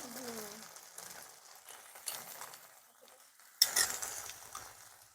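Ginger and chili paste frying in a pan while being stirred, a steady soft sizzle with scraping strokes and a sharper clink of the utensil against the pan near the end.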